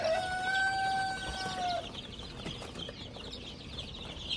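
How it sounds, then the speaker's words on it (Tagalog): Chickens and young chicks on a farm: a drawn-out high call rings out early, then soft clucking and peeping continue at moderate distance without any talking. "Dami nating mga sisiyo ngayon."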